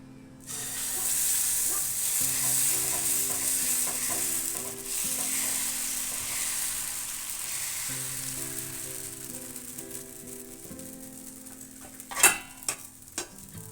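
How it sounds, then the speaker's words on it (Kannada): Mung bean and peanut dosa batter sizzles and hisses steadily on a hot iron griddle, loud and close, with scraping and a few sharp clatters near the end. "ನೋಡಿ ಫ್ರೆಂಡ್ಸ್, ದೋಸೆ ಹಾಕ್ತೀನಿ ಇವಾಗ ಹಂಚಿನ ಮೇಲೆ."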